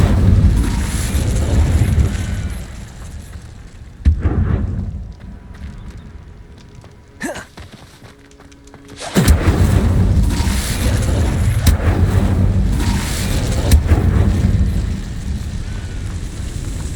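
Incendio fire spell cast in the video game Hogwarts Legacy: a loud, roaring whoosh of flame with a sharp burst, a brief lull, then a second sustained fiery rush that holds until the end.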